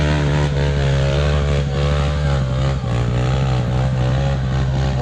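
A motorcycle engine strains loudly and steadily as the bike climbs a steep hill on the Pacet route in East Java, with a strong, sustained droning tone that wavers slightly with throttle changes, close by and with no voices.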